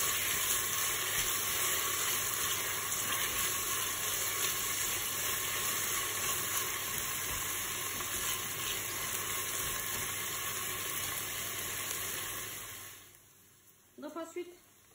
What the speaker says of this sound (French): on va faire rissoler les oignons